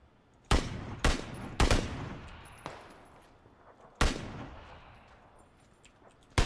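Gunshots ring out in the PUBG battle royale game: a handful of loud, sharp single reports, several in quick succession at the start and another a few seconds later, each trailing off in a long echoing decay.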